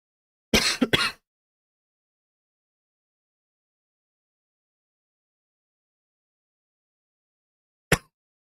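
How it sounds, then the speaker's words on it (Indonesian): A close, sharp double cough near the start, then near silence until one brief cough-like burst much later. "Aduh, saya batuk."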